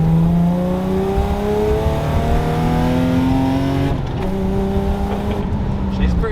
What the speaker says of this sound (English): Do full throttle to see how she is.